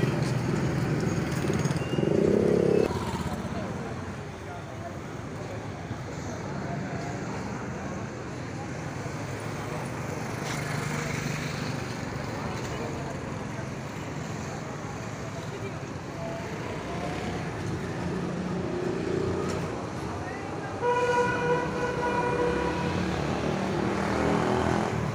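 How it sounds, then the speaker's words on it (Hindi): Crowd of motorcycles queuing at a BSO petrol pump in Multan: a constant hum of idling engines and traffic rumble, with people talking throughout. "आप देख सकते हैं दोस्तों कितना रश लगा हुआ है मोटरसाइकिलों में, सारे जो है पेट्रोल डलवा रहे हैं।"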